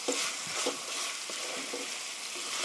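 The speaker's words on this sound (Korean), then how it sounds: "어니언, 양파, 캐럿, 칼비지, 양배추 넣어서 볶아주세요." Sliced onion, carrot and cabbage stir-frying in a hot pan for chicken tteokbokki, a steady close sizzle with a few soft scrapes as the vegetables are tossed.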